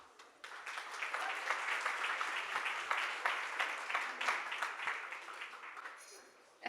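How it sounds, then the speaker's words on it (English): Conference audience at a marketing hall of fame event breaking into sustained applause, many hands clapping in a dense, even patter that swells in quickly, holds for several seconds, then thins out near the end. "Let's give her a big round of applause."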